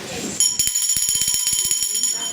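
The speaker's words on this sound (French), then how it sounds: "Ceci, c'est la cloche de fin, pour dire fin de l'impro." A small bell rings to close an improv theatre round, a quick run of about a dozen bright, rapid strikes with sustained metallic overtones, loud and close, following a voice.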